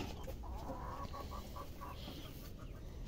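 Laying hens on a small farm clucking in short repeated calls at moderate distance, fairly quiet over a low background rumble, with no talk.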